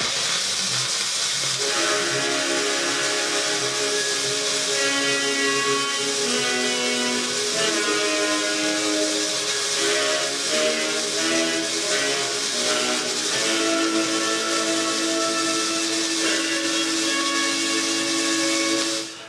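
A 1912 vertical-cut disc record played back in stereo through loudspeakers, giving a hissy, crackling old recording with faint music and melody lines buried under steady surface noise.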